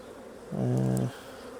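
Honey bees buzz at an open hive during a beekeeping inspection, a single steady drone that swells up, holds for about half a second and fades, fairly close, with no talk.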